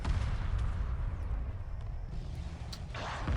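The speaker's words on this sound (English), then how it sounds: "Now it's just the ion cannons focusing fire onto that destroyer." Ion cannons firing on a destroyer in the space strategy game Homeworld Remastered, a dense, booming rumble of heavy weapon fire that rolls on without pause at a loud, steady level.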